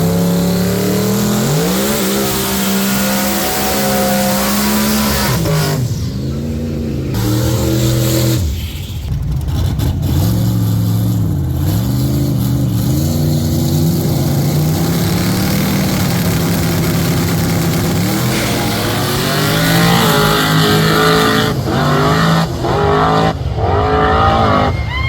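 Low-budget small-tire class drag cars in a first-round race idle, then rev hard and roar off with rising, wavering engine pitch, loud and close, with tire squeal as they launch.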